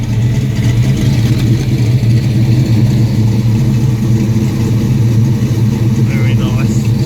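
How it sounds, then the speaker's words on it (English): A 1971 Ford XY GT Falcon replica idles close by with a steady, deep, loud engine burble that holds throughout, with a voice speaking over it. "Listen to that nice burble."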